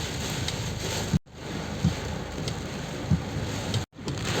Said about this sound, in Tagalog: At ang lakas ng ulan.